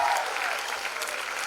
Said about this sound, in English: I think he deserves a much better applause